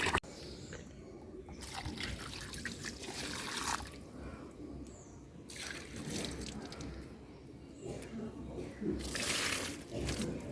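Water runs steadily into a container outdoors, a continuous trickling and gurgling flow that swells and eases in texture, moderately close and soft, with people talking at times over it.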